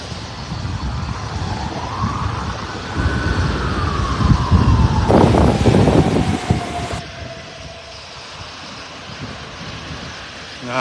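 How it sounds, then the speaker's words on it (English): A wailing ambulance siren sweeps past with a falling pitch over loud wind and traffic rumble on a beach walk in North Naples, Florida, then fades into steady background noise. "An ambulance just went by."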